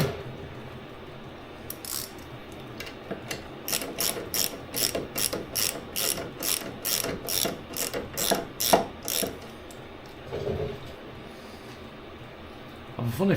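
Rapid ratchet wrench clicks tightening a fitting on the rear anti-roll bar of a TVR Chimaera, in close, loud bursts of evenly spaced clicks that stop, then resume briefly near the end.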